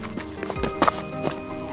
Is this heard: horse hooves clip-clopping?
yes